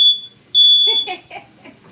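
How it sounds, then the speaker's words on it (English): A piercing high electronic beep sounds twice from a kitchen smoke alarm set off by barely any cooking smoke, the second longer, followed by a short burst of laughter. "why is the smoke alarm going off?"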